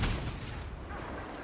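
A proximity bomb detonating in Star Wars Battlefront, a loud booming blast at the start whose rumble rolls on and fades slowly across the short stretch, with no voices over it.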